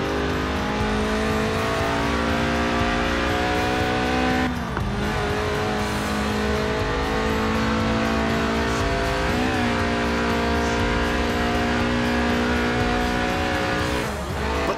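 A Lotus Elise Sport 190, a tuned, stripped-out track-day car, driving in Forza Horizon 4: a loud, sustained engine drone at high revs with brief dips and pitch changes at gear shifts, alone without voices.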